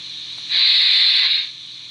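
A sharp hiss of steam venting from a Märklin BR model steam tank locomotive, starting abruptly, holding steady for about a second, then tapering off.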